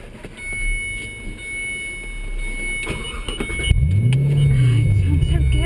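A big, wide car's engine rises from a low hum into a climbing rev while driving, growing louder toward the end, with people talking inside the car.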